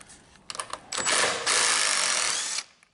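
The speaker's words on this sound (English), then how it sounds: "I'm using a rattle gun, so it vibrates those threads" A rattle gun backs out Loctite-treated carburetor screws on a lawnmower: a few short taps, then two sustained loud bursts of rapid hammering, close up, ending abruptly.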